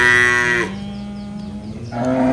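Cattle at a livestock market give a long, loud moo, then fall quiet under faint background noise before another moo begins near the end.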